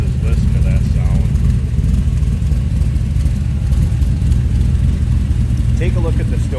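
Steady low rumble of a 1929 Ford Model A Tudor street rod engine idling close by, continuous and even throughout, with faint background voices.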